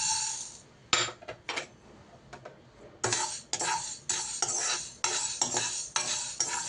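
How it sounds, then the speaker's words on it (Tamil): Green gram is dry roasted in a pan, with a spoon stirring and scraping the gram against the metal in repeated bursts. The rattling is close and fairly loud, with short pauses and no talk. "அதை இதில் போட்டு வறுத்து எடுத்துக்கலாம்."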